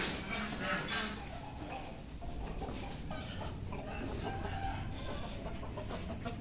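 Aseel chickens cluck and chatter faintly amid a noisy outdoor background with steady hiss, no clear talking.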